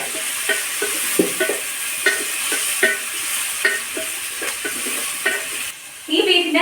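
Onions fry in a pan for a beef dish, a steady bright sizzle broken by rhythmic scraping stirs, with a louder hiss near the end as more oil or food hits the pan.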